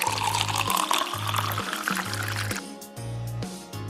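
Water pours during pretend cookie baking for kids, a bright close splashing fill that runs steadily and then breaks into shorter spurts, with rhythmic low thumps underneath.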